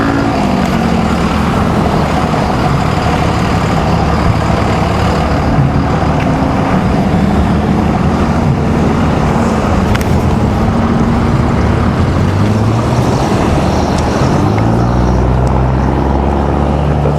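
A truck engine runs steadily and loud for a sustained stretch, a continuous low rumble and drone with slight shifts in pitch toward the end, no voices over it.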